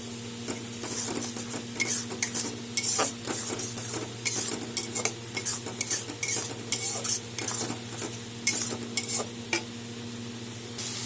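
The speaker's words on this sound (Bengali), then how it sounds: "সব একসাথে এখন কষিয়ে নেব" Chilli powder, turmeric and a pinch of sugar are sautéed together into a masala for a Bengali rui fish curry, with a busy sizzle and constant rapid scraping and clinking of a spoon against the pan, no speech.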